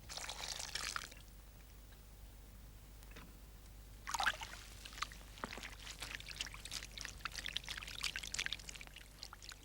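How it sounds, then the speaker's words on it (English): Water pours and trickles as fleece is washed by hand in soft Mayo water, pressed gently to keep the wool from felting; quiet splashing bursts come and go over a faint steady background, without any voices. "Mrs. Morrison washes carefully, pressing the wool gently so that it will not tangle or felt."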